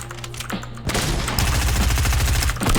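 Rapid gunfire from a shooter video game, with bursts of shots rattling in quick succession, loud and close, with no talking.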